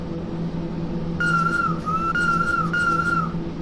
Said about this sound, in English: It's got a nice whistle.